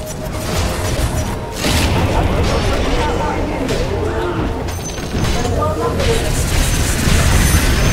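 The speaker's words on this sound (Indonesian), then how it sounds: "Ada bom nah." Bomb explosions and clashing effects from the video game Dota 2 during a live stream, a dense busy mix of booms and crashes with a player talking over it throughout.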